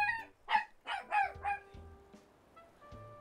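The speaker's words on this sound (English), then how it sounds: "That was my dog." A dog barks indoors in a quick run of five or six sharp, moderately loud yelps with some whiny tone, trailing off into quieter sounds, with no talk over it.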